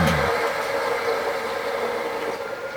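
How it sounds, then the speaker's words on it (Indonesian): A homemade wood lathe driven by a 300 watt electric motor runs with a steady mid-pitched motor whine and hum, continuous and fairly loud with no talk. "Kalau diperiksa mesin bubut kayu ini, dia hanya menggunakan dinamo tenaga sebesar 300 watt"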